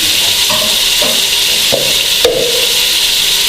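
Mutton pieces sizzle in hot ghee in a home kitchen pot, a steady loud hiss with a few scraping stirs of a spoon over it, close and alone without voices.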